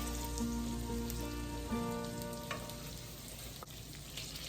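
Four tablespoons of butter melt over medium-high heat in a pan, giving a soft, steady sizzle like light rain, with a faint tonal hum running through the first half.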